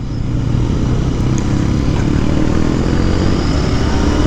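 A 2021 Royal Enfield Interceptor 650 motorcycle cruising at about 50 mph, a steady, loud engine drone mixed with broad wind rush, constant throughout with no talking.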